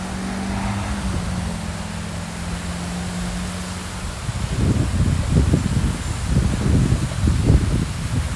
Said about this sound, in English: The bridge is busy this morning, so you're gonna hear some traffic noise.